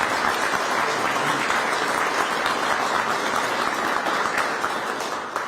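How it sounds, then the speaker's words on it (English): An audience at a bill-signing event in Cleveland gives Governor DeWine a big round of applause, with dense, steady clapping at a constant loud level throughout, tapering only slightly at the end. "Let's give Governor DeWine a big round of applause if we can."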